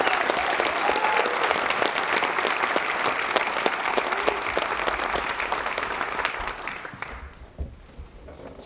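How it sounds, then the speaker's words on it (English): Banquet audience at a community awards dinner applauds steadily and loudly for about seven seconds before the clapping tapers off into a quieter room. "So let's all give an applause."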